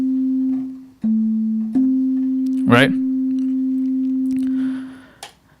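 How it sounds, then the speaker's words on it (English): Sine wave from an Ableton synthesizer holding middle C as a steady pure tone, briefly retriggered twice, then fading out; a short spoken word cuts in over the middle. "that is a sine wave playing middle C"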